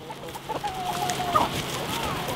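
Chickens on a homestead cluck close by, a run of short squawks and one rising call over a low background hum.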